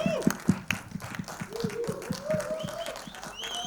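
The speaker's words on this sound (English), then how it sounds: "we gotta give him a big round of applause" A crowd applauds actor Naga Chaitanya at a movie trailer launch, brief scattered claps and cheering under a host's amplified voice.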